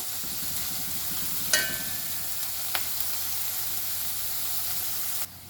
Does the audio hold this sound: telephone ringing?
no